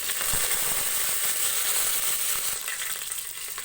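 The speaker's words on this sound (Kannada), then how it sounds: "ಚೆನ್ನಾಗಿ ಫ್ರೈ ಮಾಡ್ಕೋಬೇಕು ಎಣ್ಣೆಯಲ್ಲಿ ಒಗ್ಗರಣೆಯನ್ನು" Mustard seeds and tempering spices crackle and sizzle in hot oil in a cooker for village-style horse gram bassaru, a dense continuous frying hiss, close and loud, easing slightly toward the end without any voices.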